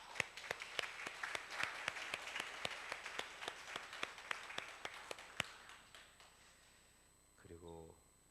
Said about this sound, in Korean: 한번 자리에서 일어나시면 박수로 환영하겠습니다